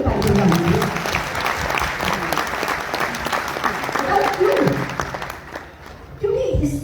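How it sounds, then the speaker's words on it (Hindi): An audience at a Modicare business event applauds loudly for the full stretch, a dense, steady roar of clapping with voices and talk mixed in over it, easing briefly near the end before swelling again. "अगर आपने किसी को इनवाइट किया है तो अपने लिए उससे भी ज्यादा जोर से ताली बजा दीजिए।"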